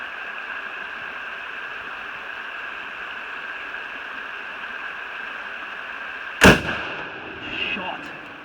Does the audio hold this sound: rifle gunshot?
yes